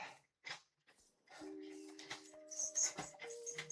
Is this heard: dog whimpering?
yes